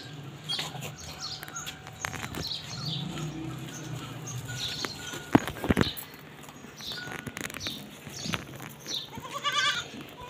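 A dumba sheep and a goat headbutt outdoors. One sharp knock of impact stands out among scattered bleats and bird chirps, all fairly faint against a quiet background.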